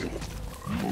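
Pigs grunting in the video game Don't Starve, a short low rough grunt heard up close with no talking.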